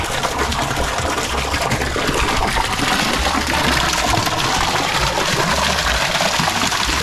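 A Pedrollo 1HP solar-powered water pump drives a strong, steady gush of water, a loud continuous rushing with no pauses and no voices.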